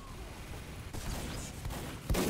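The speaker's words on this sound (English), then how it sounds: "Crit rockets." Critical rocket explosions in Team Fortress 2 come as a dense, rumbling spread of blasts, with a sharp, louder burst near the end.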